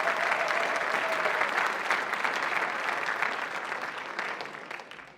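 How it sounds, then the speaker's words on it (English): An audience at a Celtic festival gives a big round of applause, dense steady clapping that carries on strongly before slowly tapering toward the end. "give them a big round of applause"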